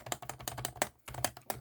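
Rapid keystrokes on an ABKO MK108 membrane keyboard, a close series of soft, muffled clicks tapped in quick succession with a brief pause midway.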